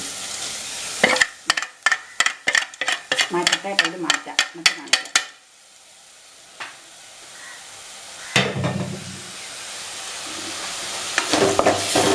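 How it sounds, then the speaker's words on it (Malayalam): Damp rice frying on full flame in a pan and stirred over and over, giving a rapid run of sharp scraping clicks. Quiet sizzling follows, then more stirring noise near the end. "ഇളക്കി ഇളക്കി കൊടുത്ത് ഫുൾ ഫ്ലെയിമിൽ കിടന്ന് വറക്കണം"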